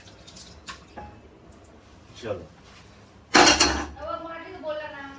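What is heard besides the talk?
washing a kadai (wok) in water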